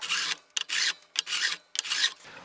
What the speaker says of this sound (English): Always when you're filing, use your fingers to feel.